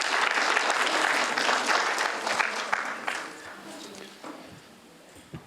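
Clapping at a school district board of trustees meeting, a full round of applause that starts loud and dense, then tapers off over several seconds into a few last isolated claps.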